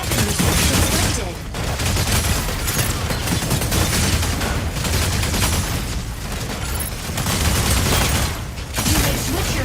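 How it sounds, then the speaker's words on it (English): Energy autocannon in the mech combat game Mecha Break firing in loud, dense sustained bursts with brief pauses, heavy booming low end throughout. "Attack with energy autocannon."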